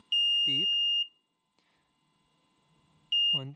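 Two loud, steady electronic beeps from a Tesla Model 3 power frunk buzzer, one near the start lasting about a second and another near the end, each overlapping a short spoken word, with quiet between.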